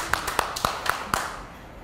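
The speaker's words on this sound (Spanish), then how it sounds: "un aplauso para él." A few sharp claps from an audience greeting a volunteer in a Spanish-language classroom or workshop, about five distinct strikes in a steady rhythm, close and fairly loud, then fading.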